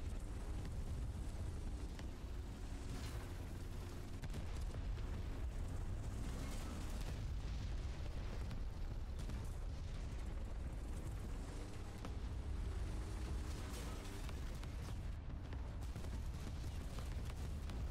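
Artillery shells exploding in the War Thunder tank game: a steady barrage of deep, rumbling booms and blasts fills the whole stretch, loud and continuous with dense low-end roar.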